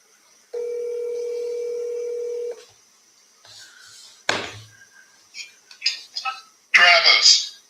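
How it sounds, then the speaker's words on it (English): A telephone dials out with a steady held tone followed by short dialing blips, then a ring and brief voice-like chatter on the line toward the end. "let's call this person back that left us a voicemail a little while ago"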